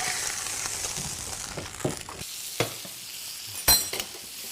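Steaks fry in olive oil with thyme and garlic in a pan, hissing and sizzling close up, with a few sharp crackles and pops breaking through the steady sizzle.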